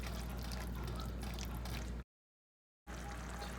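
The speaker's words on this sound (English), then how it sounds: "So basically you're just gonna keep adding liquid and whisking while this simmers." Broth is whisked into a simmering sauce for a keto dinner, making a continuous faint wet swishing and bubbling that breaks off into a brief silence midway, then resumes.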